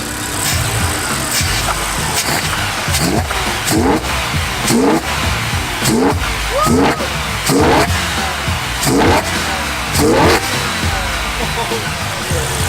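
A BMW E60 M5 engine revs repeatedly after a new idle actuator is fitted, each sharp rising burst of throttle followed by a drop, with a loud steady engine drone between blips.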